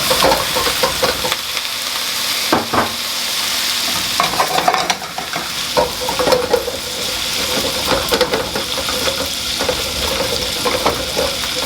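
Bok choy stir-frying in a wok for Shanghai noodles with shrimp gives a steady loud sizzle, with repeated scraping and tossing strokes of the spatula throughout, close up, with no one talking.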